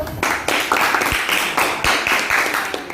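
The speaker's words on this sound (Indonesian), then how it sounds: "Tepuk tangan dulu." A classroom of pupils clapping hands together in a rhythmic pattern, several distinct bursts of group claps in a regular beat, close and fairly loud.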